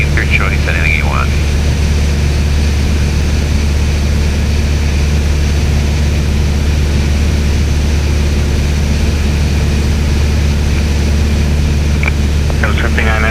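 Steady, loud drone of a light airplane's propeller engine in flight during a flying lesson, continuous throughout with radio chatter and talk over it.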